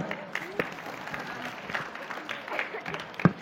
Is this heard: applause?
yes